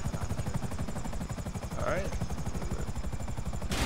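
A helicopter in Grand Theft Auto Online gives off a steady, close rotor thump that pulses without a break, with voices talking over it.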